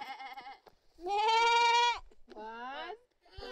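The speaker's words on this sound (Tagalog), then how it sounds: "Michael, dat nga dyan ang mga kambing" Goats on the Isle of Man bleating in a few loud, wavering calls separated by short pauses, close by, with people talking and laughing around them.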